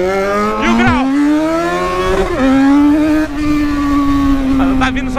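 A Yamaha XJ6 motorcycle engine revs and accelerates, loud and close, its tone rising and then holding a strong steady drone, ridden through the street outside a college.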